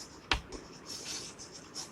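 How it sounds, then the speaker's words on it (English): Marker or chalk writing on a board during a class-6 maths lesson, a quiet tap followed by a few soft scratchy strokes. "So here we will write total"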